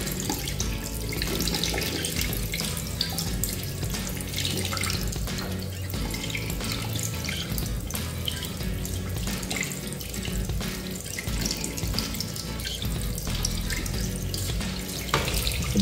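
Tap water runs steadily over an Honor X9b smartphone held under a faucet, a continuous loud splashing rush with no voices.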